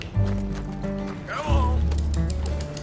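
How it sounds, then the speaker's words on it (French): A horse in the Red Dead Redemption 2 video game clip-clops with clattering hooves and rattling tack, a rising whinny-like call in the middle, all over a deep steady rumble. "C'est mon cheval, ça?"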